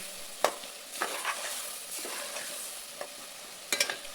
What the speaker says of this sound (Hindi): आप थोड़ी हल्दी ले लें और इस सब को हम फ्राई कर लेंगे।